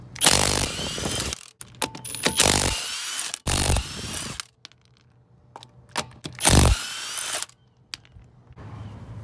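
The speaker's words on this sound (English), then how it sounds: "You can take off the lug nuts." An impact gun removes the 22 mm wheel lug nuts on a 2004 Chevy Suburban, loud close bursts of whirring and rattling repeated several times with short quiet gaps between.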